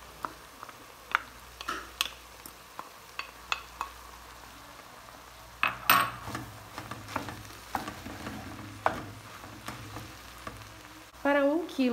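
Diced onion fries in a pan with a steady close sizzle, punctuated by clicks and scrapes of a utensil stirring it, and a louder burst of sizzling near the end.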